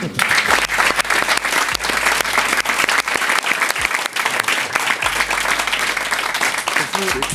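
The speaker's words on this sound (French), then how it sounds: "C'est ma mort que vous applaudissez" A studio audience breaking into loud, sustained applause, dense clapping filling the room without pause, with some crowd voices faintly underneath.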